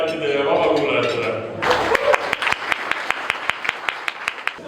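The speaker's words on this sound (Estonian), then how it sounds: "Teha veel noorusliku aplausi kõigile delegaatide ja vabakuulajatele" Delegates and guests at a youth assembly gathering receive a round of rhythmic clapping: after a stretch of talk, sharp distinct claps ring out in a steady beat, close and fairly loud, with a bit of chatter at the start.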